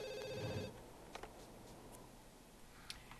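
A telephone in The Sims 2 rings with a short electronic trill, followed by faint scattered ticks and game chimes in an otherwise quiet room.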